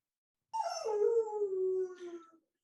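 A pet dog left at home howls in one long, mournful, sliding note lasting nearly two seconds, clear and fairly close with no other sound around it.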